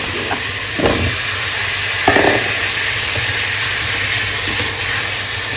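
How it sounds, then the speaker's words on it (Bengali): Spices with cinnamon, cardamom, ginger-garlic paste, salt and turmeric frying in a pan for papaya curry, giving a loud steady hiss with a few brief spatters. Close up, no voices. "পেঁপেটা রান্না করার জন্য মশলা কষা করছি"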